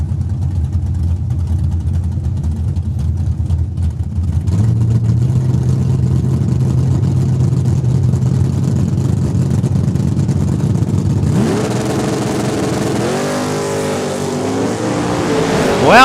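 A 1982 Camaro and a 1968 Mustang drag racing at Saskatchewan International Raceway: a loud, steady engine roar holds for about eleven seconds, then a brighter, rising rev with pitch sweeps as a car accelerates nearby.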